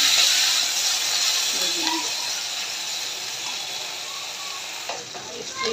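Chopped onions fry in hot oil in a pan, with a continuous bright hiss that fades slightly over time and faint clinks near the end.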